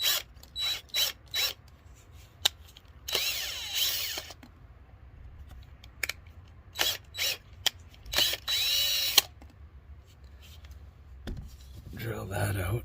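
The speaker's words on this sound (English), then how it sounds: "drill that out" A power drill boring into wood whirs in several short bursts with pauses between, some bursts longer, along with clicks and handling noises nearby.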